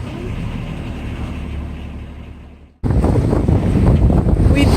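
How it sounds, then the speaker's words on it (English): Sailboat motoring under engine with only the mainsail raised, off Cancun's coast near Isla Mujeres: loud, steady wind buffeting and engine-and-water rumble that briefly drops out near the middle, then returns stronger with hull and wave noise. "We've been motoring for about an hour with just the mainsail up"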